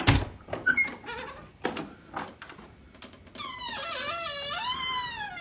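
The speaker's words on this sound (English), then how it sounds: "that's his door opening" A door creaks open in an old house, a long wavering squeal that bends up and down in pitch, following a few soft knocks and shuffles; fairly close and alone.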